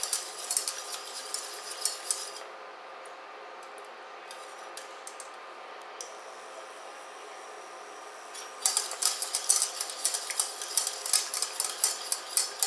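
A utensil stirs butter pieces into a beurre blanc sauce in a pan over very low heat, producing light rhythmic scraping and clinking against the metal, close by, busier at the start and end with a quieter stretch between.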